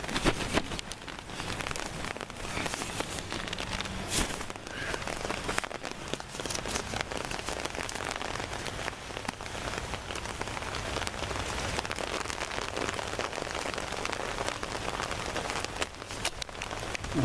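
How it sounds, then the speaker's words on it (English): Steady rain falling outdoors at a heritage village of historic buildings, a dense continuous patter that stays even and fairly loud throughout, with no voices. "There comes some of that rain."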